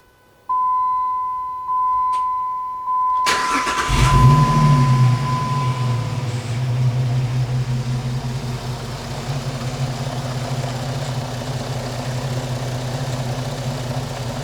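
A Jeep Liberty fitted with an Airaid throttle body spacer: a few chimes sound, then the engine cranks and catches at about three seconds and settles into a steady, close idle that continues to the end.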